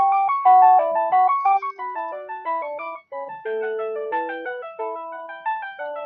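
A phone rings in a kitchen with a melodic electronic tune of bright, stepping tones, loud and close, playing continuously for several seconds with no talking.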